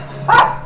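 A single short, loud dog bark close by, rising and falling quickly over a low steady hum, with no other sound around it.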